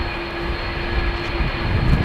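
A Delta Airbus A330-300 rejects its takeoff at Amsterdam Schiphol, its engines a steady distant roar with a thin whine on top, swelling slightly toward the end.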